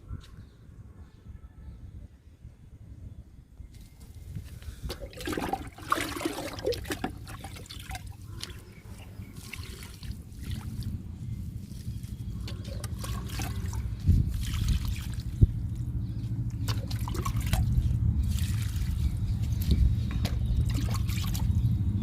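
Liquid fertilizer is poured onto bean plants in a garden, a soft trickle and splash that grows steadier and louder over the span, with faint background noise.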